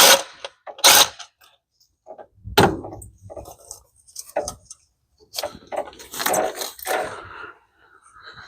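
Bolts on a Nissan Xterra intake manifold come loose under a hand ratchet, heard as scattered short bursts of close mechanical clicking separated by quiet gaps.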